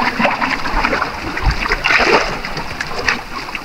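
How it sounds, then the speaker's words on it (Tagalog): Strong sea waves splash and slosh at low tide on a windless day while fishing, with irregular bursts of spray close by that fill the whole moment without any talking. "Walang hangin pero malalakas yung alon ngayon."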